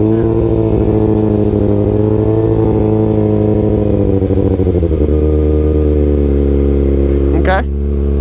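A Kawasaki 636 stunt motorcycle idles high with a raised idle, a loud close steady engine drone that wavers slightly and ends with a sharp blip near the end.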